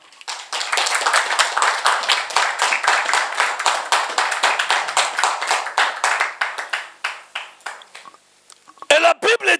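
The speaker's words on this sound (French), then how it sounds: "Est-ce qu'on peut acclamer le Seigneur?" A church congregation claps and applauds to acclaim the Lord, a dense, fast and steady round of clapping that thins into slower scattered claps, with a brief burst of cheering at the end.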